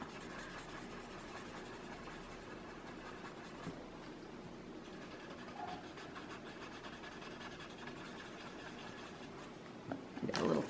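Pencil strokes scratch and rub across paper in a steady, faint, continuous texture while drawing a repeated overlapping-shape tangle pattern, close and quiet with no talking.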